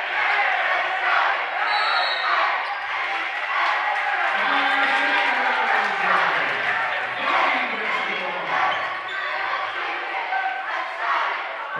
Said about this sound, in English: this crowd is pumped up here